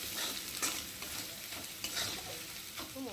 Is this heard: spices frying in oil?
yes